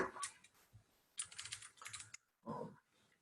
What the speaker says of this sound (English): you can like start typing a command and it will auto-complete it based off your history